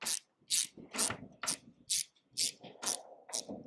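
Ratcheting clicks from a screw being driven home while fitting an extra Givi fuel tank to a Honda Rebel 500, in seven or eight evenly spaced bursts about half a second apart, close and moderately loud with no talk.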